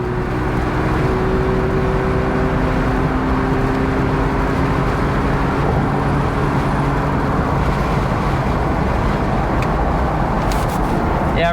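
A Mazda RX7 rotary engine pulls in third gear, a loud continuous drone and whir with road rumble throughout, steady in level and filling the cabin.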